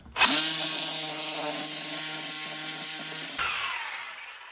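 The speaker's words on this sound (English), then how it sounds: "Fortunately, I have access to a sawzall, so I'm just gonna make my cut where I started there." A Sawzall reciprocating saw cuts through a deer skull's bone during caping, a loud steady buzzing whine with grinding that runs about three seconds, then cuts off and the motor winds down.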